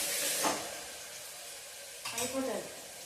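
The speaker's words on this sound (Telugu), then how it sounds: "ఇప్పుడు ఇందులోనే కొంచెం అల్లం ఎల్లిగడ్డ పేస్ట్ కూడా వేసేసుకుంటున్నాం ఇది రెండు మంచిగా ఫ్రై కావాలా" Ginger garlic paste fries into a mutton curry base with a soft hiss, and two brief stirring scrapes sound near the start and after the midpoint.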